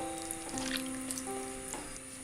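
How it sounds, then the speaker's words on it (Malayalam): Chana masala curry coming to a boil in a pan over a high flame, a faint steady sizzle and bubbling with soft pops, alone and quiet with a background hum. "അപ്പോൾ ഇതിന് തിള വന്നു തുടങ്ങിയിട്ടുണ്ട്"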